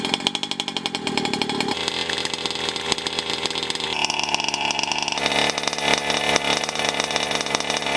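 A petrol-powered 1/5 scale RC car engine runs loud and close, a raspy two-stroke buzz that revs up and shifts pitch in stepped surges, with no voices.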